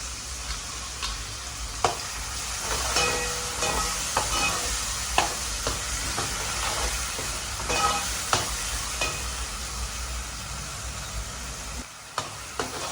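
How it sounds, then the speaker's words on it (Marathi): Ground green chili paste fries in a pan with ginger and garlic for a mutton masala, giving a steady close sizzle over about thirteen seconds, with the clicks and scrapes of stirring breaking through now and then. "हिरवी मिरची चांगली परतून झाली आहे"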